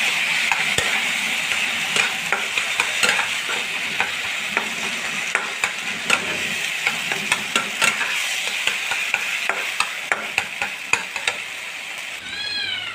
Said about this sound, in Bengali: এবার আমি বেগুনটা দিয়ে দিলাম। ভালো করে মিক্স করে নেব, নেড়ে করে।